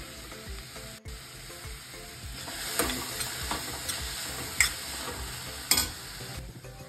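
Finely chopped onion frying in oil in a pan, a soft steady sizzle with light stirring taps and scrapes now and then, close by and fairly quiet, with no talking.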